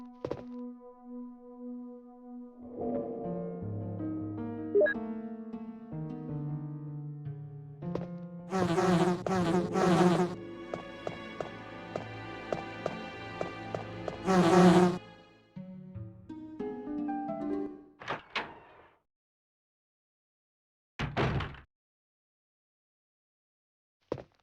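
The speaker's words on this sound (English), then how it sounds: "And is that going to be a hornet nest?" In the Resident Evil Director's Cut video game, a hornet nest gives off bursts of harsh buzzing among tonal game sounds and soft thuds, separated by brief silences, with no talking.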